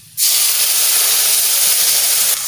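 Water splashes into a hot pan of oil and mustard seeds, just after fish frying, for a sour wild hog plum dish. A loud, steady steam hiss bursts in abruptly and runs for about two seconds before easing slightly.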